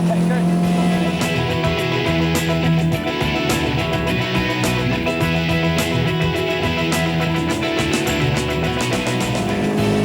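A 1974 car accelerates as it is driven, its engine a continuous loud drone with shifting tones and regular clicks, heard from close by without a break.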